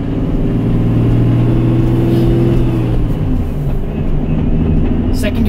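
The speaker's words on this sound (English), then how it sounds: "First gear's fine, but you can hear that rattle." A supercharged Nissan 350Z is driven in first gear with a rattling transmission. A loud, close engine drone runs steadily throughout and its pitch dips briefly partway through.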